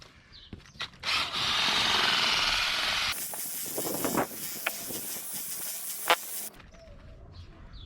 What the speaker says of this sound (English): this little power drill attachment. It just makes mixing everything so much quicker and easier.